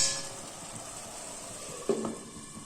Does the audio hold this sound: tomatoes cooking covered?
yes